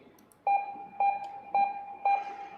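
A Steelmate car rear parking sensor gives four evenly spaced, clear warning beeps, about half a second apart, over a faint background hum.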